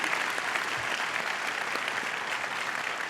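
Dense, even applause from a large keynote audience at a business technology conference, a continuous crowd clapping texture at steady moderate loudness.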